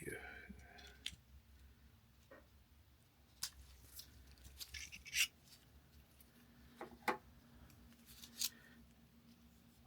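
Scissors on a Leatherman Wave Plus multi-tool are opened with a few small metallic clicks and rubbing handling noises, faint and close, with a person speaking now and then.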